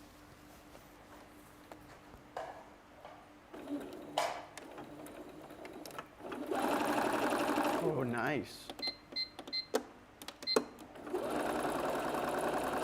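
A sewing machine runs in several bursts of stitching, with a short whirring stretch and a longer run, while a person speaks briefly in between.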